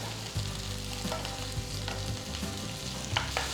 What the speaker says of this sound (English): Just saute the onions.